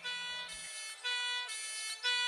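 A loud fire engine siren wails in alternating two-tone cycles, rising and falling repeatedly as if nearby, with faint road noise underneath.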